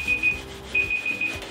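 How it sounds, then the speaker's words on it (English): A kitchen timer going off after five minutes, sounding short repeated high beeps in two bursts over soft rubbing and scrubbing noises from oven cleaning. "that was my 5 minute timer."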